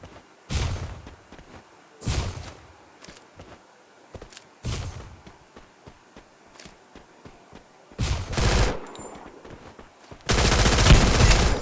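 Emerald M1887 shotgun fire in a mobile shooter game, several loud separated blasts at irregular intervals ending in a dense burst of rapid gunfire, with no talking.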